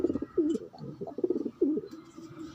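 Pigeons cooing close by in a loft with squabs, soft throaty coos and rolling calls repeating several times.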